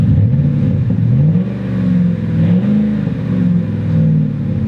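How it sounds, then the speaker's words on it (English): A Ford V8 pickup truck with dual exhaust rumbles close up. A deep, steady idle is broken by several rising and falling revs, heard alone without talk. "It's got dual exhaust for that great V8 sound."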